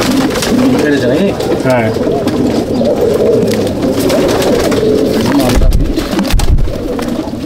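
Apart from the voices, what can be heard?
Andhra beat pigeons cooing in a loft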